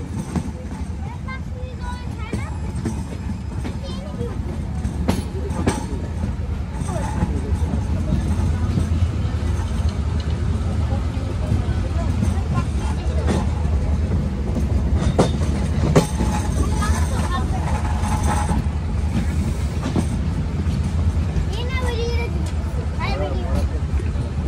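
An intercity Kopotaksha Express train enters Pakshi railway station with a continuous heavy rumble of wheels on rails and scattered clanks and squeals throughout. Voices murmur faintly beneath the noise.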